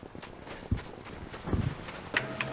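Soldier footsteps in the shooter Battlefield V, a few uneven thudding steps on the ground at close range, mixed with faint battlefield ambience and no speech.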